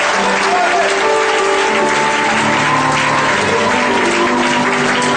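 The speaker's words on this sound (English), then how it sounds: "Are we not clapping for Jesus for this wonderful life?" A church congregation claps for Jesus during a service, loud sustained applause mixed with voices and tonal music or singing running underneath.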